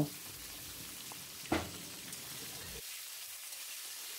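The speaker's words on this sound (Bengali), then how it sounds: "একটা কেটে রাখা পেঁয়াজ কোচানো সেটাকে দিয়ে দেব দিয়ে পেঁয়াজটাকে খুব সুন্দর করে ভালো করে ভেজে নেব" Chopped onion frying in a pan for chicken keema chana dal, a soft crackling sizzle with a sharp burst as it hits the oil, then the sound cuts away abruptly.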